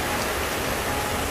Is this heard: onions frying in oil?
no